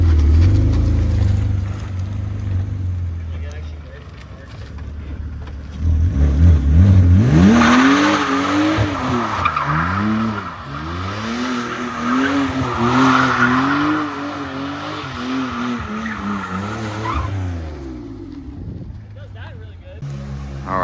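A project car's engine cranks for several seconds, then catches and is revved repeatedly in loud rising and falling surges before settling, close up, with a voice briefly heard.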